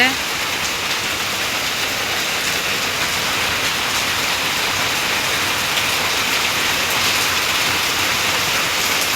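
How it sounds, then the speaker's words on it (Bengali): Heavy rain pours down steadily at a rural home, a dense, even hiss of downpour filling the whole scene without letup. "এই যে অনেক জোরে বৃষ্টি হইতেছে"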